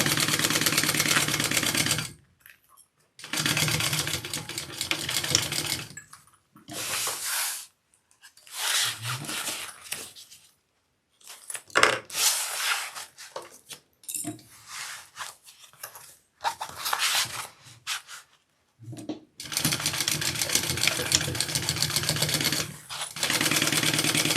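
A sewing machine stitches a bag pocket closed in loud, close bursts of rapid whirring separated by short silent pauses.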